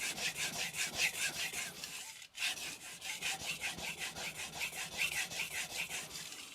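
Steady back-and-forth scraping of a Tojiro Kiritsuke knife on a whetstone, fast rhythmic strokes with a brief pause near the middle, close and clear.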